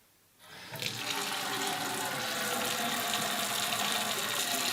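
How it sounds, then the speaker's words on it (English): Water starts running from a faucet to flush air out of a water heater supply line, a sudden onset settling into a steady, close hiss of flowing water. "let's go ahead, run the water out of the faucet, get any air bubbles out of the system"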